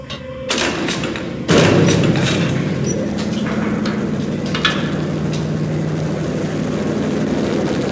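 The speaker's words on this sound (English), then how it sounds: "The unmarked chopper was Horn's pet guardian" An unmarked helicopter in the Max Payne video game drones as a loud, continuous rotor roar, starting after a thud and holding steady with faint impacts mixed in.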